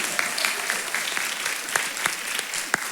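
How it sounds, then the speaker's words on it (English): Audience at a 2016 Baton Rouge flood victim information meeting claps briefly, scattered hand claps at moderate distance forming a short round of applause with no voices over it. "Go ahead and give her a clap."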